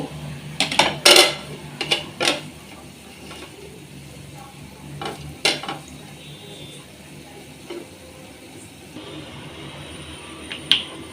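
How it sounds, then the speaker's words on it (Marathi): Metal spoon scrapes and clinks in a pan while moong dal halwa with dry fruits is stirred, a few sharp knocks early on, then softer scraping over a faint background hiss. "ड्रायफ्रूट्स टाकून आपण पुन्हा एकदा परतून घेऊ"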